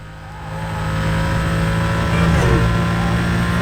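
A Lamborghini Gallardo Superleggera in the Need for Speed Most Wanted racing game, its engine holding a loud, steady drone that swells slightly over a few seconds, with faint game sounds behind.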